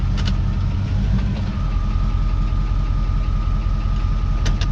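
A car engine idles steadily after being shifted into gear following an oil leak repair, a continuous low rumble with a faint knocking texture and a thin whine, with a couple of brief clicks near the start and end.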